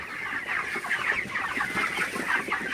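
Broiler chickens cluck steadily in a shed with damp litter, a dense, continuous flock chatter of overlapping clucks at moderate volume with no voices.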